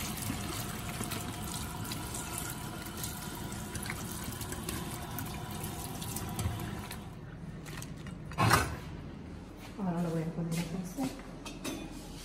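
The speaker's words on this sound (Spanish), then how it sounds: "Ya limpié el chile, ahora lo estoy lavando para ponerlo a cocer." Water runs steadily from a tap over chili peppers being rinsed in a kitchen sink, a continuous splashing wash that later thins out and breaks into shorter pours and clatter, with a voice speaking partway through.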